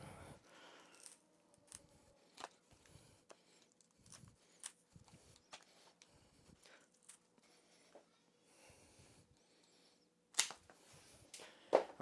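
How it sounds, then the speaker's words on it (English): Tin snips cut through a nylon ratcheting belt in a quiet room, giving a run of faint, sharp clicking snips at irregular intervals with a couple of louder crunches near the end. "Now let's use our tin snips, because once you cut, you can't go back."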